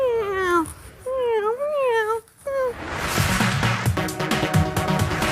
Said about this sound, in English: I don't like the look of that cat.